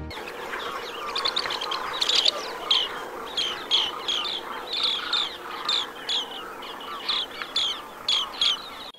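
Green bee-eater giving repeated short, trilling chirps in a lively series, fairly close and clear over a quiet background.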